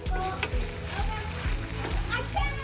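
Scallops and calamari sizzling in seafood paella cooking on a grill, a steady loud frying hiss with occasional scraping stirs and soft thumps, with voices faintly in the background.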